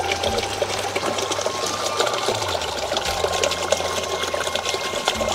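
Water rushes steadily through a stream on a rural farm where the current is split, a continuous loud, close hiss with no voices.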